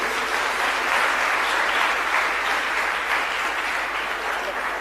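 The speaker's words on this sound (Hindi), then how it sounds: "बच्चों से अपेक्षा जोरदार तालियां हमारे सर के लिए।" Children at a state quiz event clap loudly for their teacher, a dense, even wash of many small hands applauding continuously without pause.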